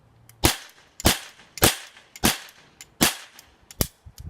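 A toy cap gun fired six times in a steady rhythm, each a sharp, loud crack with a short tail, close by and alone.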